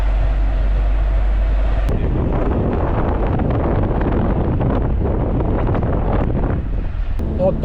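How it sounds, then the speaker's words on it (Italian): Strong wind buffets the microphone in a loud, continuous roar, gusting and rumbling heavily throughout with no clear talk. "C'è molto vento."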